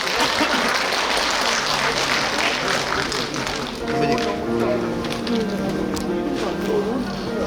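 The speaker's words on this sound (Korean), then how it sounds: "큰 박수로 맞아주시면 감사하겠습니다." Audience at a book concert applauds to welcome clarinetist Kim Min-ho to the stage, a dense, steady wash of clapping filling the room, with voices murmuring underneath and tonal sound emerging in the second half.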